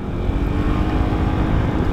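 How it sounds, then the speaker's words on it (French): Yamaha XMAX 300 Tech Max scooter (2023) pulling away hard from a traffic light, a steady, loud engine drone with dense low rumble and smooth, continuous acceleration, no voices. "Allez, on se fait un petit décollage au feu,"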